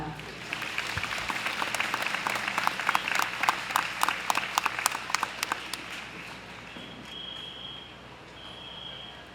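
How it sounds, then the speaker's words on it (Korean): A crowd applauds for several seconds at a national teachers' memorial rally in Seoul, the clapping loud and dense before fading out, leaving a quiet room with a faint high tone. "고인을 기리는 마음이 제주에 계신 유족분들께 전달될 수 있도록 큰 박수 부탁드립니다."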